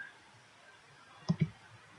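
Two quick, close mouse clicks in a row, crisp and isolated against a faint room hiss, made while setting a breakpoint in Visual Studio.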